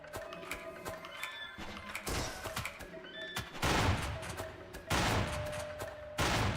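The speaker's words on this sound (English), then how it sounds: "the shotgun has its problems, but it is pretty powerful" Shotgun blasts fire repeatedly in a first-person video game, loud broadband bursts landing at irregular intervals, with two or three heavier booming shots standing out near the end among scattered clicks and in-game effects.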